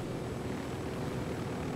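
A helicopter approaching in the video game Ghost Recon Wildlands, a steady, fairly faint rotor and engine drone with no talk over it.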